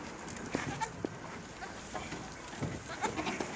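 Goats bleating near a handler bottle-feeding orphaned kids, several short cries scattered across the moment over a steady background hum, moderately close and not very loud.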